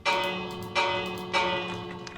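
A Minecraft bell struck three times at roughly even intervals, each strike a bright metallic clang with a long ringing decay that overlaps the next, loud and close with no talking.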